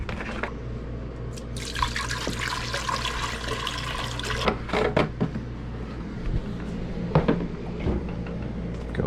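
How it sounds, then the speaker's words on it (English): Water runs steadily from a tap into a cooking pot in a cabin kitchen, a continuous broadband rush with a few knocks and clunks of the pot and cupboard near the end. "I'm gonna fill this up with water"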